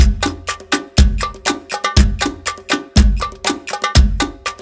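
Finger cymbals (zills) clapped closed together make sharp metallic clapping hits in a steady, busy belly dance rhythm, bright and close, with short ringing decays between strikes.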